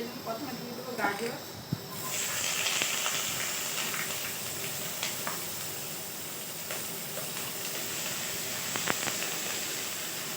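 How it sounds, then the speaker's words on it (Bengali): Carrots and other vegetables dropped into hot oil for vegetable fried rice set off a steady, close hiss of sizzling that starts after a moment and continues under a person talking. "এইগুলো সব সবজিগুলো ভেজে নেব। প্রথমে দিয়ে দেবো গাজর"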